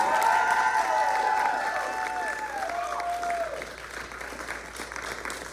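A crowd at the 2023 Queer in Sevier variety show applauds and cheers steadily, with sustained clapping and some high tonal sounds over it. The applause fades slightly toward the end.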